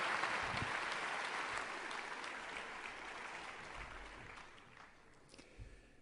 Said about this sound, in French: je vous propose également de l'applaudir.